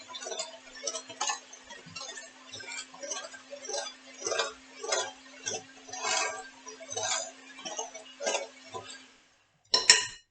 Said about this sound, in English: Let's mix all around.